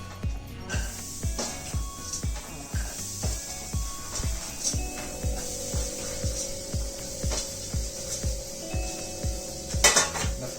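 Coconut being cooked in a pan for mutton xacuti, with repeated scraping and clinking of a utensil against the pan in a steady rhythm and a faint sizzle underneath.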